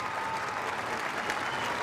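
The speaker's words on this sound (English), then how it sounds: "Twickenham will rise as one for 30 seconds applause" A stadium crowd at Twickenham applauds steadily during a rugby sevens tribute, a dense wash of clapping that stays even throughout with no voices standing out.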